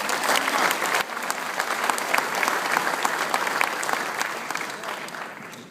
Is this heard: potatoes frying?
no